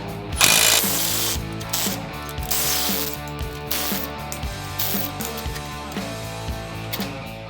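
Power tool whirring and ratcheting steadily as it spins off the four U-bolt plate nuts on a truck suspension assembly, loud and close, with mechanical clatter throughout and no talk.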